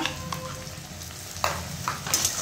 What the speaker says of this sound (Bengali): আদা রসুন পেঁয়াজ লঙ্কা বাটা আছে, এইটার মধ্যে আমি ঢেলে দিলাম। ঢেলে একটু কষতে লাগছি।